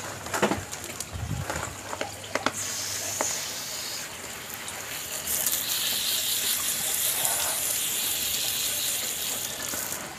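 Water gushes steadily over the roots of an aglaonema plant as they are rinsed clean of fermented raw husk and cocopeat, a continuous wash that grows fuller midway, with birds cooing and calling nearby.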